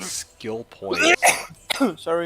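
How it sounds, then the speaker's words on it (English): A single short cough from a gaming livestreamer, heard between stretches of his own speech. "I was coughing."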